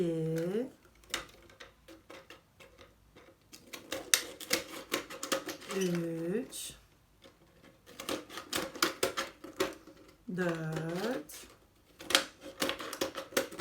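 Scissors snip through paper for a children's octopus art craft, a series of short crisp cuts in quick bursts, close by, with a voice speaking briefly between the runs of snips.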